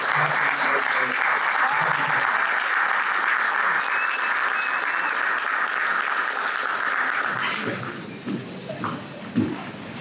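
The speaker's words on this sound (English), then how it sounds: "So please, round of applause, join me in welcoming the president." Guests at a business awards evening applaud loudly to welcome the president, and the clapping fades out near the end as scattered voices and small noises remain.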